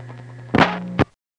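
MF multi-frequency signaling on a trunk from a crossbar tandem in a 1974 Queens exchange: a steady line hum, then a loud noisy burst that fades into a lower tone, ending in a sharp click before silence.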